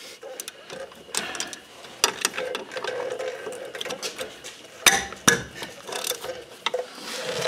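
A socket wrench works loose the hub bolts on a Jeep front hub, giving close, irregular ratcheting clicks and metallic scrapes with a few sharper clanks.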